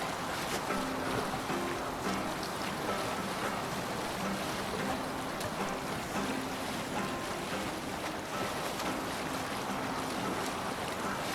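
A Viking longship under sail in Assassin's Creed Valhalla, with steady rushing water and wind washing along the hull, a continuous close wash of surf-like noise with no talk over it.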